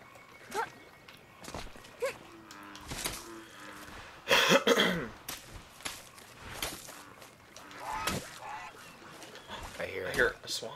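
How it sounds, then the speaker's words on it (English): A swan calling in the video game The Unfinished Swan, with honking, moo-like calls standing out among scattered thumps and voices, the strongest call arriving midway. "I hear a swan."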